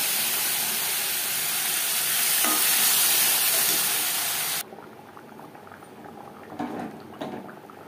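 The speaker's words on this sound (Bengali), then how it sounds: "এবার আমি এই কচুর ঝোল অ্যাড করবো ফোড়ন বা" Taro broth poured into a hot spiced tempering in a pan, a loud dense sizzling hiss that swells then cuts off abruptly, followed by quieter bubbling and a few soft stirring knocks.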